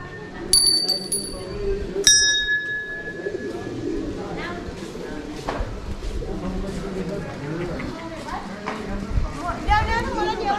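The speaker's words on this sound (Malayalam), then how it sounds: "ഇങ്ങനെ ചുമരിലൊക്കെ ഇങ്ങനെ മണികളൊക്കെ വെച്ചിട്ടുണ്ട്." Temple bells hung along a wall at Manakamana temple in Nepal ring out with two bright strikes near the start, followed by pigeons cooing and people talking nearby.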